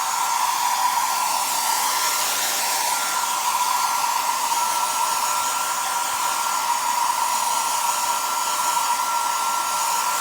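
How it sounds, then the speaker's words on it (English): A hairdryer drying flexible body filler during sanding and base-coat prep on a Riley Pathfinder, a steady loud whine running without a break, nobody speaking. "We'll dry it in a second with the hairdryer"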